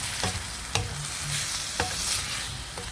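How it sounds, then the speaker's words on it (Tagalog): Beef stirred in a pan with ketchup, oyster sauce and brown sugar, a steady close sizzle broken by several sharp scrapes and knocks of the spoon against the pan, with no talking. "haluin lang po na mabuti"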